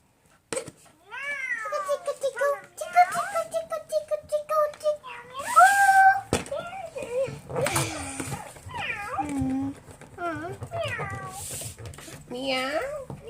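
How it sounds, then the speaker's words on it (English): Cat meowing repeatedly in short rising and falling cries, close and fairly loud, mixed in with a child and an adult talking nearby. "Meow."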